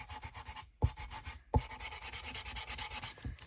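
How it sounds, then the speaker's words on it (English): Sandpaper rubbing back and forth over a paper bag lap book cover, a close, quiet rhythmic scratching with a few brief pauses and soft knocks. "you've just distressed it and now you're sanding it all off."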